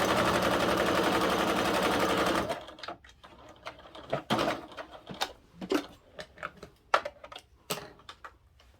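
A sewing machine top-stitches a fabric billfold wallet, running in one steady, dense burst for a couple of seconds before stopping, followed by scattered light clicks and handling taps of fabric and tools.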